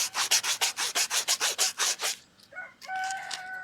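A coin ring is pressed against a running belt sander at a not-so-coarse grit, giving a rapid series of rhythmic rasping strokes before a quieter, tonal whir takes over.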